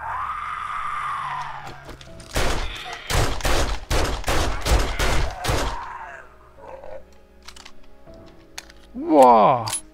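A homemade machine gun fires in the survival video game 7 Days to Die: a loud rapid burst of about ten shots, followed by quieter game sounds and a short groan at the end.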